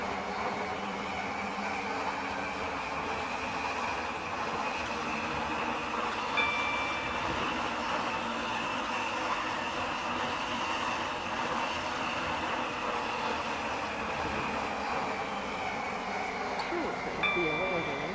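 Waterline train running in the Stepford County Railway game, bound for Airport Terminal 2, a steady rumbling hum with a faint tonal whine, continuous throughout, while a voice talks over it.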